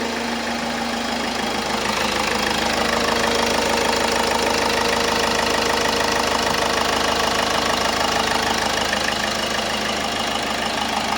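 A 2018 Ford Titanium Signature engine idles continuously and loudly up close, a dense steady mechanical hum with a faint ticking knock, unchanging throughout, with no talk.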